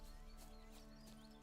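Faint hoofbeats of the horse Roach in The Witcher 3, a few soft clip-clops over a quiet droning game background.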